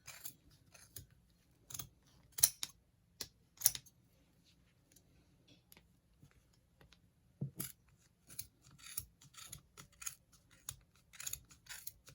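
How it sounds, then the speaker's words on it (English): Quiet, sharp scissor snips trimming yarn come in scattered bursts, with short pauses of near silence between them. "you cut a length of yarn and you start trimming it"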